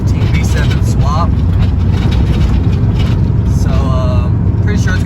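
A Honda Civic VX with a single-cam D15B engine drives along in a loud, steady low engine drone inside the cabin, with someone talking over it in short bursts.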